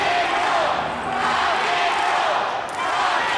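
A sports arena crowd at a game cheers and roars in a loud, steady wash of noise, with an announcer's voice heard over it.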